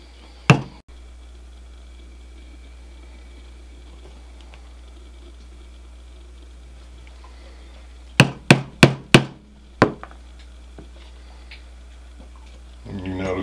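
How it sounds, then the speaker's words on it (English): Leather being hammered through to punch holes for a skillet hot handle; a quick burst of five sharp, close strikes in succession, with a single knock before and another after, over a quiet room. "So she's just going to keep on going and keep on hammering that through."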